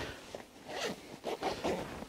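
YKK zipper on a 5.11 Rush 12 bag drawn open in a few short, rasping pulls, close and moderately quiet, with nobody speaking.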